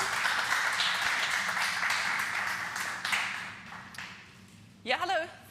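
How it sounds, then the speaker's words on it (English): A hall audience at the BornHack 2022 hacker camp gives a round of applause for about four seconds, fading out before a single speaker begins talking. "Give a round of applause, please."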